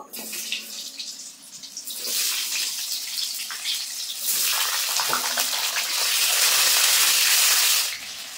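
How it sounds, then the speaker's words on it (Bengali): Long-cut potato strips frying in hot oil, giving a loud, close, steady hiss and sizzle that swells and stays dense before dropping off near the end. "তো প্রথমে আলুটা ভেজে নেব।"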